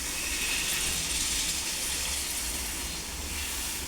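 Water pours into a pot of chicken curry in a loud, steady, close gushing hiss that runs without a break.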